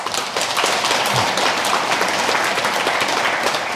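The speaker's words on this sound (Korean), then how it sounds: "그분들께 박수 한번 보내주세요" A large congregation at a Buddhist temple pilgrimage prayer gathering at Gakwonsa in Cheonan applauds, a full, even wash of clapping that holds steady from start to finish.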